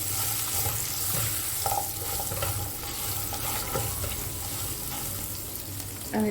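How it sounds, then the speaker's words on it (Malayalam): Drumstick pieces and onion sautéing in a pan for a Kerala-style meal, a steady close sizzle with occasional stirring scrapes and clinks, no talking. "ഇതിലേക്ക് നമുക്ക് ഒരു 2 മുരിങ്ങ തോലൊക്കെ കളഞ്ഞ് കട്ട് ചെയ്തെടുത്തത്, ഇതൊരു 3 മിനിറ്റ് നേരം നമുക്കൊന്ന് വാട്ടിയെടുക്കാം"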